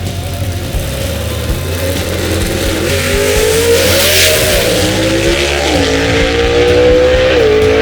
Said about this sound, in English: Good drag race right here, folks.